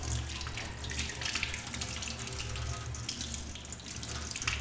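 Hot water pours steadily from a kitchen sink tap, a constant close splashing rush with no pauses and an electrical hum beneath it.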